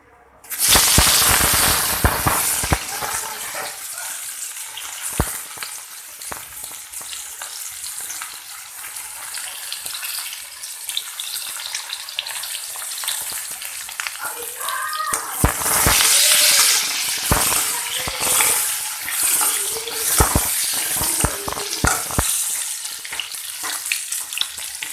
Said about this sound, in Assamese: তাতে মই কাটি থোৱা আলুখিনি অলপ সময় ভাজিম